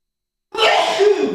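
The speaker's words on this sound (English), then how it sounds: "He sneezed all over the pizza." One sharp, close sneeze bursts out suddenly after a moment of silence.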